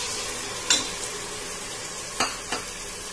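Mint paste being stirred into frying tomatoes for biryani, a steady close sizzle broken by a few sharp scrapes of a spoon against the pan.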